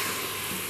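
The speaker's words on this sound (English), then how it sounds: "Let that sizzle." Tamarind water, about half a cup, sizzles hard in a hot pan, a close, dense, steady frying hiss with no voices.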